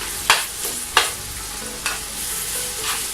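Vegetables and chopped tomatoes stirred in a frying pan, a low sizzle running throughout while a spoon scrapes through in a few distinct strokes, close and alone.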